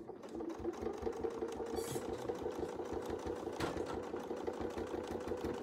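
A sewing machine stitches across a line on a Christmas tree and angel quilt, its rapid needle rhythm pulsing steadily and close throughout, with a faint scrape or rustle partway through.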